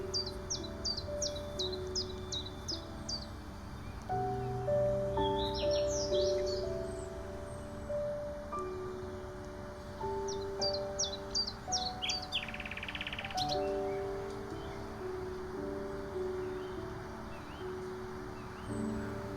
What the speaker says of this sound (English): Listening to the quiet rustling of the leaves and various bird songs